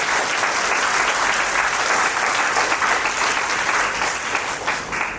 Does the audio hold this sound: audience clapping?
yes